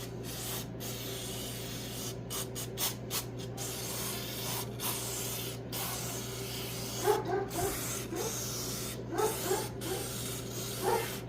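Repeated bursts of aerosol spray hiss in short blasts while cleaning Farmall 450 tractor engine parts during a valve job, with a steady background hum and a dog barking faintly in the latter part.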